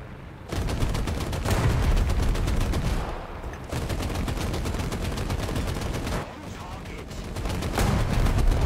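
A tank's main gun in a video game fires amid a dense, continuous roar of gunfire, with loud sharp blasts near the start and around the four-second mark over a steady rattling battle bed.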